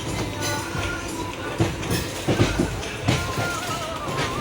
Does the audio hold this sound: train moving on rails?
yes